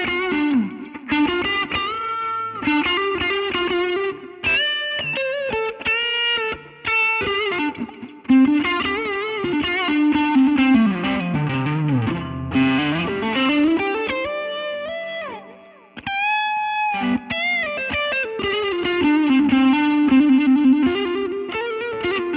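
Electric guitar through an amp modeler playing a song intro, a clean, chorused tone with rhythmic picked chords and melodic bends, close and continuous, no voice.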